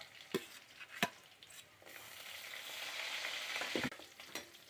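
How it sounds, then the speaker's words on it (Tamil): Garlic sizzles in a pan, a hissing fry swelling and easing under a few sharp spoon knocks against the metal, close but fairly quiet, with no one speaking. "பூண்டு வந்து போட்டுக்கணும்"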